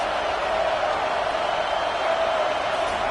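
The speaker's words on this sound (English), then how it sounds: "This crowd trying to make life miserable for this offense." Dense, steady roar of a large football stadium crowd during a college game, a constant loud wash of noise with no distinct voices standing out.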